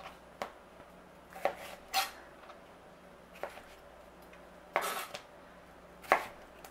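A knife cuts a peeled cucumber into chunks for a fresh summer tomato salad, sparse sharp taps on a cutting board spaced irregularly, close and fairly crisp, with no voices.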